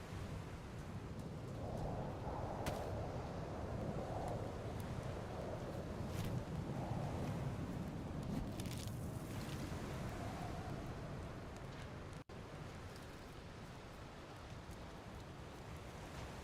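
Steady wind rushes across a snowy landscape in the survival game DayZ, a constant broad roar with gusty swells and no voices.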